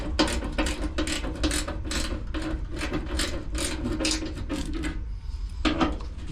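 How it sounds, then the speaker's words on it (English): A small ratchet wrench clicks quickly in rapid, even bursts up close while working on the outdoor cabinet of a Ruud Rheem 3.5-ton AC unit, with a brief pause before the clicking resumes. "these little wrenches are handy if you got any stuff like this. A ratchet wrench."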